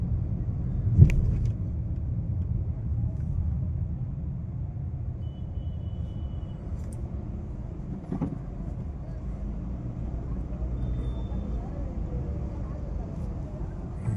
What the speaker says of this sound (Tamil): பாண்டிச்சேரி முழுக்க இப்படி தான் டிராஃபிக்கு.